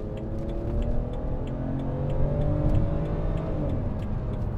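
2011 BMW Z4 sDrive23i roadster engine running on a drive, a steady, close broadband drone with gently shifting pitch, and faint ticking on top.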